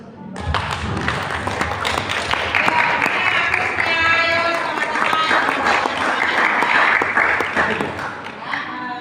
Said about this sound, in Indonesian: Setelah beliau memberikan materinya, kita kasih lagi aplaus.